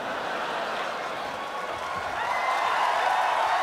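Studio audience at a comedy panel show applauding and cheering for Dan, a dense, steady wash of clapping and whoops that swells slightly toward the end, with voices mixed in.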